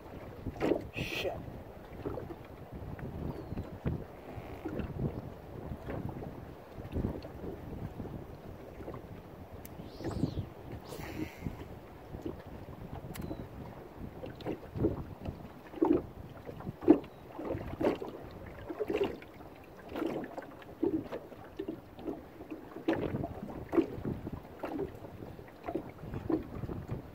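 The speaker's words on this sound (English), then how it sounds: "A serious amount of wind here, kids." Strong wind roars across open water around a small fishing boat, with steady buffeting gusts on the microphone, water sloshing against the hull, and occasional faint voices in the background.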